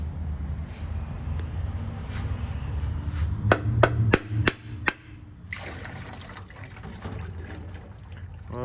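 Several sharp metallic taps on a vehicle rear end differential part, a quick cluster of strikes in close succession, near and moderately loud, followed by softer rattling and handling noise.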